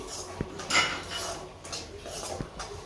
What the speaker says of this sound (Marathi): उपीटसाठी सांज्यासाठी रवा भाजते.